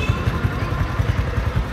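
Modified 2018 Honda Wave Alpha 110 motorcycle with a reworked clutch and springs, its single-cylinder engine running close by in a steady, low, even pulsing rhythm.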